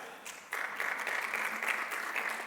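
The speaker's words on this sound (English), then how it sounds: "if that's the one that you've picked, you have to clap your hands" Audience clapping at a conference talk, a dense, steady burst of many hands that jumps up sharply after a brief quieter start and holds loud and even to the end.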